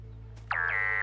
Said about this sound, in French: Papa Pou, ce n'est pas une alarme, c'est une sonnerie de téléphone.